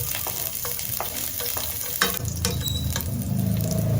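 Garlic sizzles in hot oil as the first step of Filipino pakbet, with a close, busy crackle and a few scraping stirs, and the frying grows louder and denser partway through.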